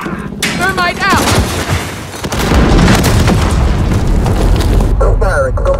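Thermite grenade blasts and gunfire from Call of Duty Modern Warfare (2019) multiplayer Domination, with heavy booming explosions and dense crackling shots building into a sustained loud barrage while in-game voices call out over it.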